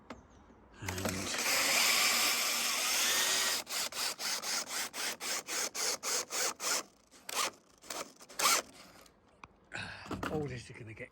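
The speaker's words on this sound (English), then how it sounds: "all this is going to get covered with felt, so I'll just trim all that off" During shed building, a power tool trims excess material with a sustained harsh buzz, then about a dozen short rhythmic cutting strokes follow, ending in a few scattered bursts; a voice speaks briefly near the end.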